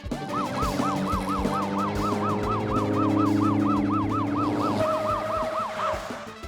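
A cartoon police siren wails in a steady, rapid up-and-down pattern that repeats many times, loud and close over a low vehicle rumble, with no voices.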